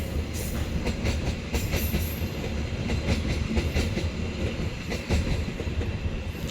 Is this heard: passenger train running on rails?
yes